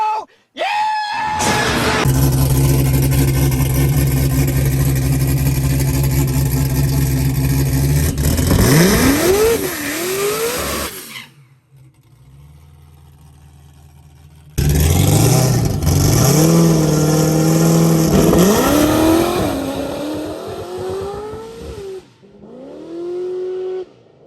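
An all-wheel-drive Honda Del Sol accelerates hard on a street, its engine revving loud and close through rising gear pulls, dropping to a brief lull before another hard pull climbs and fades.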